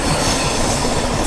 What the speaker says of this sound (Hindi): अभी थोड़ी देर में जो है आ रही है गोरखपुर ऐशबाग इंटरसिटी एक्सप्रेस, तो उसके साथ आप लोगों को क्रॉसिंग दिखाते हैं।